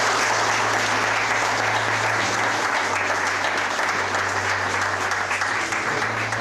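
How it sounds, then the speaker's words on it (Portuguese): An audience at the inauguration ceremony of a care home claps in a loud, continuous round of applause, thick and steady, with a low hum underneath. "peço uma salva de palmas para isso"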